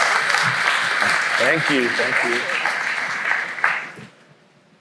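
A conference audience applauds a speaker at RenderATL 2022, dense sustained clapping that fills the room and ends abruptly near the close, while someone speaks briefly over it.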